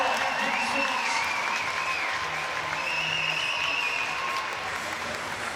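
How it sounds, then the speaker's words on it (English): Sustained applause and cheering from a large crowd fills an echoing indoor swimming venue at a long course swimming meet, with an announcer's voice faintly over it. "Huge applause and respect from around the venue."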